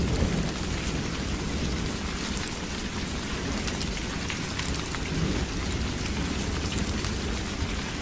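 Heavy rain pours steadily on a stormy, moonless night in a Bengali horror cartoon, a dense, loud, unbroken hiss with a low rumble of thunder underneath for the whole stretch, and no voices.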